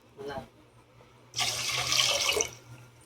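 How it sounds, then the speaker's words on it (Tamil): Water poured into a pot while making coconut milk rice porridge, a steady splashing gush lasting about a second after a brief earlier trickle, close and fairly loud, with no talking over it. "தண்ணி வேணுங்கிறதெல்லாம் கொஞ்சம் ஊற்றிக்கணும்."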